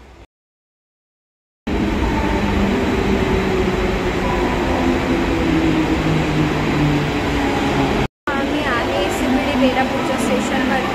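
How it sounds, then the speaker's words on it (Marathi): Inside a train at Belapur railway station in Navi Mumbai, a Thane-bound service gives a loud, steady rumble and rail hum that starts abruptly and then breaks off briefly near the end. "बेलापूरच्या स्टेशनवरती आमची ठाण्याची ट्रेन आहे"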